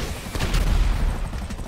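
Video game gunfire in GTA Online, shots aimed at a fighter jet: a dense, rapid burst of shots that swells through the middle and stays loud and continuous, with no clear talking.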